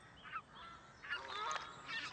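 Geese from West Greenland call in a flock, several honking notes overlapping at moderate distance, with a louder burst of honks in the second half.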